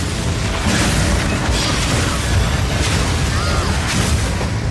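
Incendiary bolts burst in a Path of Exile 2 game trailer, a dense, loud roaring wash of fiery blasts with a few sharper surges layered over a constant rumble.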